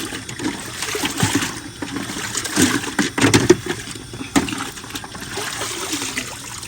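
Water splashes and gushes steadily around a muddy Willys jeep driven into water to rinse off the mud, a continuous close sloshing with brief louder surges.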